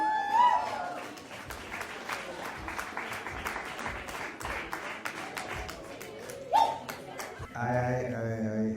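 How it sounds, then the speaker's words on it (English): Audience claps for the performing artists after a set, scattered moderate applause from a small group, with a brief voice near the end. "Give them a round of applause, please."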